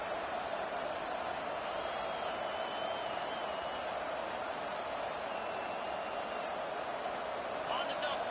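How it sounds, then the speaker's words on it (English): A large American football stadium crowd roars steadily and loudly throughout, a constant dense wall of cheering with no break. "It is getting loud as this crowd tries to help its defense"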